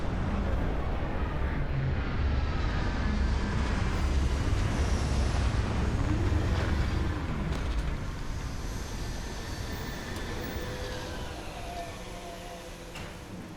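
A spaceship lands in a video game with a deep, rumbling roar and faint whooshing tones that hold steady, then slowly fade out, with no talk.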